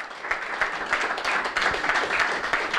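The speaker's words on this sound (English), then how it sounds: "can a big round of applause, please, for the high roller champion in Edinburgh, Mr. Ankit Ahuja." An audience claps continuously for a poker high roller champion in Edinburgh, a moderate, even wash of applause with individual claps audible throughout.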